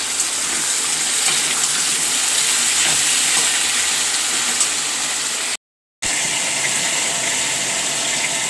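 Curry simmers and sizzles in a pan on a home stove, a steady close bubbling hiss broken by a short silent gap.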